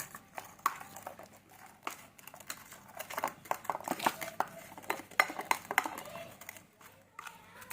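Marinated pork tongue is mixed with soy sauce in a bowl, giving irregular clinks and scrapes of a utensil against the dish with soft wet stirring, close and fairly quiet.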